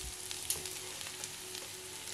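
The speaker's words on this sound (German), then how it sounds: "Öl erhitzen und die Gemüse hinzufügen und eher auf höhere Hitze anbraten" Mixed vegetables frying in hot oil over high heat for a creamy Indian vegetable curry, giving a steady close crackling sizzle with small pops and no talking.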